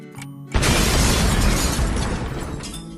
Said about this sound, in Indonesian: Ini adalah suara bom.